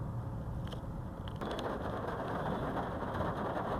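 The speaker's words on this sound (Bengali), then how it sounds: "দেখো যেতে যেতে বৃষ্টি নেমে গেল, আর কি সুন্দর লাগছে।" Rain pours on a street in Bengaluru as a steady, broad hiss, with a low vehicle engine rumble underneath and a few brief tapping sounds, moderately quiet and continuous.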